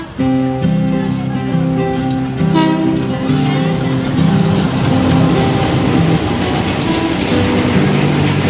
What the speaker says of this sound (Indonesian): ini dia rangkaian kereta api